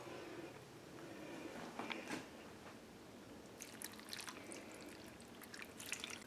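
Water poured into a stockpot over thawing chicken bones for chicken stock, a quiet, continuous trickle and splash in a home kitchen with a few brighter splashes toward the end.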